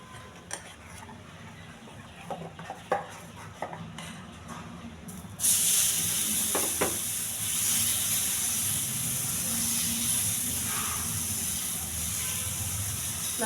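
Plain millet pesarattu batter hits an oiled pan: a few light clinks and scrapes come first, then a sudden loud, broad hissing sizzle bursts in and holds steady to the end.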